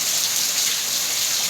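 Steady rain pours down as an even, hissing wash of drops on surfaces, loud and continuous with no break and no voices.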